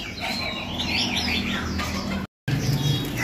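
Several caged red-whiskered bulbuls chirp and tweet continuously at close range, bright calls layered over a busy background with a brief silent gap.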